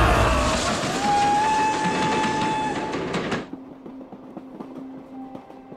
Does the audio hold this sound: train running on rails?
yes